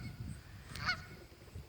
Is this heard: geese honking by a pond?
yes